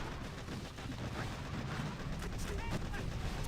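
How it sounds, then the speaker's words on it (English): Cannons pounding a scorched mega crab in a video game, a dense barrage of booming artillery shots over a rumbling battle din. "Poor Scorcher is getting absolutely beat down by these cannons over here."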